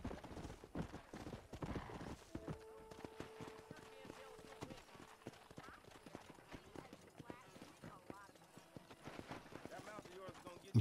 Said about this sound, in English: It's a lot safer riding a horse in this game as well.